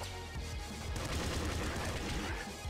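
Sustained machine gun fire in the video game Nuclear Throne, a dense, continuous rattle of rapid shots with booming impacts, loud and unbroken throughout with no talking.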